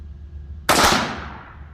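A single loud gunshot at an outdoor shooting range, a sharp crack followed by a decaying echo over a low background hum.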